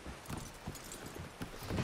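Horse hooves clip-clopping in Red Dead Redemption 2, a quiet, steady walking rhythm of hoof thuds repeating about every third of a second, close by with no talk over it.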